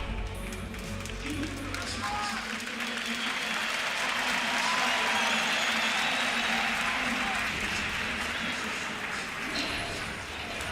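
A large arena crowd at the EU LCS 2018 Summer Split Finals, a League of Legends esports event, cheers and applauds in a loud, continuous roar that stays dense throughout, with commentators talking over it.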